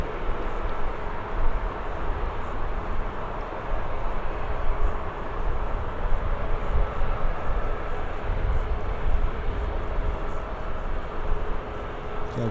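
A KLM airliner departs from Birmingham Airport, its engines making a steady broadband roar that holds at a fairly even level throughout, with a low rumble underneath and no talk.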